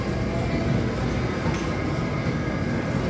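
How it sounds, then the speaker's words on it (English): A toy train display in a store running continuously, a steady mechanical rumble and whir with faint rail clatter, close and unbroken for the whole stretch. "Now this is my favorite part. I love this train."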